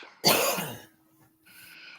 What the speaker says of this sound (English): Sorry, I had a coughing fit.